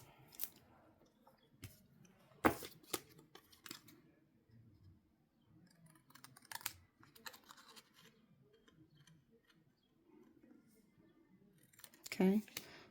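Small scissors snip through paper during a card-making craft session, giving a few sharp, brief cuts at irregular intervals with soft handling rustle between them, close and fairly quiet.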